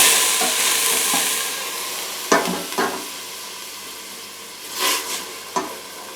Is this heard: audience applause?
no